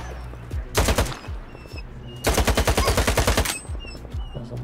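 Gunfire from a rifle in the video game Stalker 2, a few spaced shots followed by a fast run of about a dozen evenly paced, loud, close rounds over a steady background hum.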